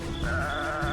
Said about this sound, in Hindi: फिर उसे बकरी के बच्चे की आवाज आने लगी।